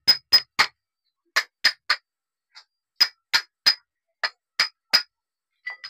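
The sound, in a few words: hammering around the steering rack body to seat it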